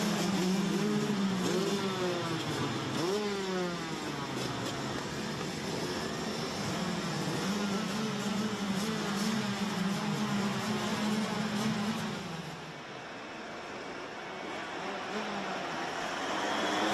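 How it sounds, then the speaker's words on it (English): Rotax DD2 race karts launch from a standing start at a 2020 RMC Germany round in Wittgenborn, a pack of two-stroke engines snarling and rising in pitch together, loud and close, then droning steadily before easing off near the end. "So they press the accelerators to the floor, lights out, and they are off and racing"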